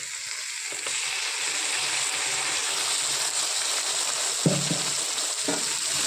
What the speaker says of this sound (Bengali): আলু লাল করে ভেজে নেওয়ার পর দিয়ে দেবো মশলার পেস্ট